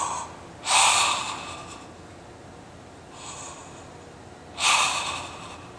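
A person draws two loud, forceful breaths during a stretching exercise, rough and vibrating, close to the mic, with a softer breath between them and quiet gaps around them.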